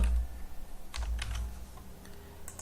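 Rapid typing on a computer keyboard while writing CSS code, quick bursts of clicky keystrokes close up with short pauses between runs.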